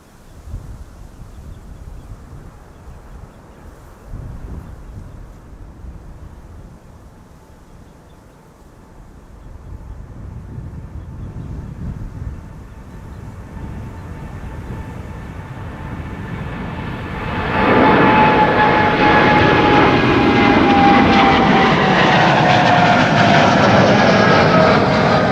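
Air Canada Boeing 787-8 Dreamliner departs Schiphol, a distant engine rumble swelling into a loud, broad roar with a whining tone as it takes off, wind noise throughout.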